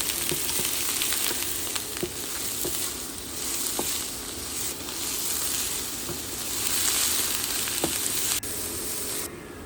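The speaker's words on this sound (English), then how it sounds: "Saute until it gets soft." One medium chopped onion softens in olive or cooking oil in a pan, giving a continuous close hiss and crackle with a few light clicks and no talking.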